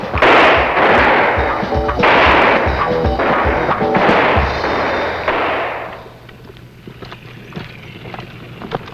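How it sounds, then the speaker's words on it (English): Marine recruits fire rifles for qualification on a range, a series of loud, booming reports overlapping at irregular intervals with wind noise, then fading into quieter distant shots. "This is one of many opportunities the recruits will have to qualify with their rifle."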